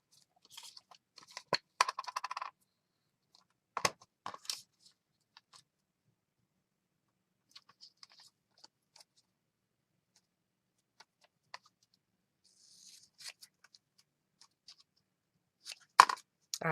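Scissors snip through paper for a junk journal project: sparse, close, crisp cuts in short bursts separated by long quiet gaps.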